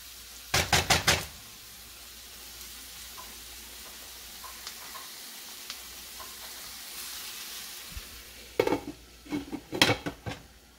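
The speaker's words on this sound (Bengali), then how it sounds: "লো হিটে ঢাকনা দিয়ে ঢেকে রাখবো যেন ব্রোকলিটা গলে" A metal lid rattles onto a pot of broccoli and shrimp mash, with a quick cluster of clattering knocks, a quiet stretch with faint small clinks, then another burst of rapid metallic taps.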